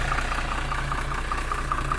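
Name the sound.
Iveco Cursor 7.5 litre bus engine idling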